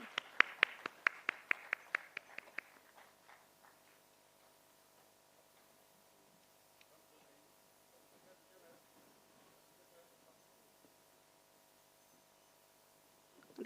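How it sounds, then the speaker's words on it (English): Applause for a company team on stage at a stock listing ceremony: a short burst of sharp hand claps, loud and close at first, quickly thinning and fading into a quiet room hum. "Giving an extra round of applause to the SAM team"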